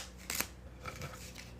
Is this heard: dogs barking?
no